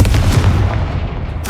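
A Confringo blasting curse explodes in Hogwarts Legacy, a dense booming burst with a rumbling low end that holds loud across the moment before fading into a brighter crackle.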